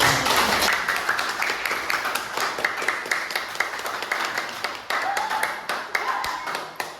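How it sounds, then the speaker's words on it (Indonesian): Sustained applause from a classroom of students, dense hand clapping filling the room at steady loudness throughout, with a few sharper individual claps standing out. "kasih tepuk tangan untuk Vicky."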